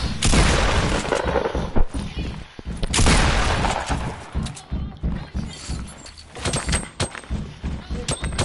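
Grenades explode in a PS4 shooter game, several heavy booms and shattering bursts in quick succession amid gunfire, loud and close, with players talking over it.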